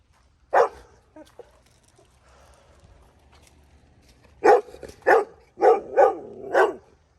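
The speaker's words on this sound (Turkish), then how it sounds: "Genç de bir köpek." A young dog barks once, then after a pause lets out a run of five quick, loud, fairly high-pitched barks close by.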